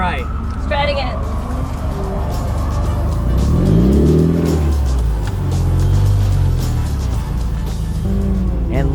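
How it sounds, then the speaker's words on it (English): A car drifts through a run with engine revving and rising and falling pitch, near and loud, while tire screech blends into the noise and people talk over it. "With each tire screech"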